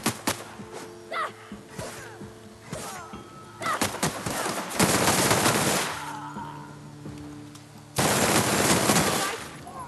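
Gunfire from a big gun in The Outer Worlds video game: loud, close bursts of rapid automatic shots and heavy blasts with clattering impacts, interspersed with short pauses and a voice talking briefly.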